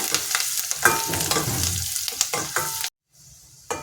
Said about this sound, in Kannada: ಇದಿಷ್ಟು ಈಗ ಕೆಂಪಾಗೋವರೆಗೆ ಫ್ರೈ ಮಾಡೋಣ